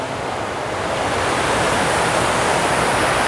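Water rushes and splashes steadily at the Fort Worth Water Gardens, a dense, unbroken wash of flowing water heard alone.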